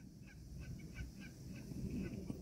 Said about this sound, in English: Geese out here chasing each other.